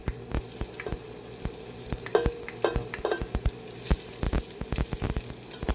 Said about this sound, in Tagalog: mainit na po. Pwede na po natin ilagay ang ating garlic.